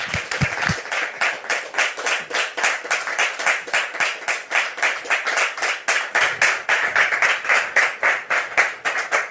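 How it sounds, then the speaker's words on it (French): A studio audience on a talk show welcomes guests onto the stage with rhythmic, synchronized clapping, steady evenly spaced claps that keep a brisk beat from start to finish. "Je vous demande, très cher public, de les recevoir sous vos applaudissements"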